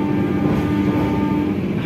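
A passenger train hauled by a CC 203 diesel locomotive rumbles past up close, a loud, steady roar of wheels and engine with a sustained tonal hum, no voices.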